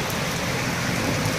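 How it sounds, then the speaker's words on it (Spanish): Heavy rain pouring down in the city of Cali, a dense, steady hiss of drops hammering surfaces, loud and uniform with no speech over it. "con esta fuerte lluvia que está cayendo acá en la ciudad de Cali"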